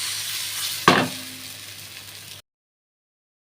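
Pointed gourd mash with fried dried chili sizzles softly in a pan. One sharp stir or scrape of a utensil sounds near the start, then the frying fades and cuts to silence.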